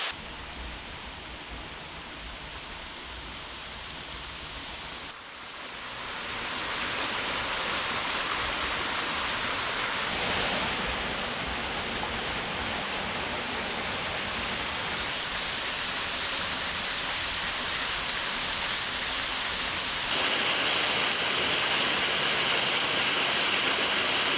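Small Pool Cascade on the Great North Walk, a waterfall pouring in a steady, loud, broadband rush heard up close, unbroken for the whole stretch with slight shifts in intensity.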